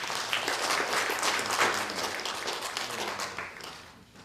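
Audience applause at a formal ceremony in Trinidad and Tobago, a steady dense wash of clapping from a sizeable crowd that holds for several seconds before tapering off near the end.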